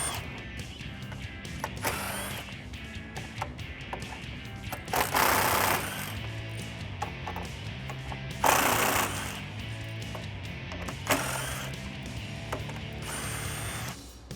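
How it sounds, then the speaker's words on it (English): An 8mm socket removes the front bumper screws on a 2015-2017 Ford Mustang, with repeated short bursts of mechanical ratcheting and whirring over a steady background hum. "Grab an 8mm socket and get them off."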